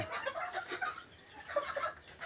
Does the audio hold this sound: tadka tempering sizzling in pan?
no